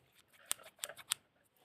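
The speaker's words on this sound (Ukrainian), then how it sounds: "Зараз беремо ножиці." Scissors snip through paper while cutting out a watermelon-shaped craft piece for a homemade squishy, three crisp close snips in quick succession with no talk.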